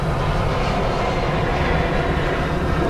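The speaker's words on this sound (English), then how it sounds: "Sorry about the airplane." Airplane passing overhead as a broad, steady roar that fills the scene without pause, heard outdoors alongside a 1964 Lincoln Continental Convertible.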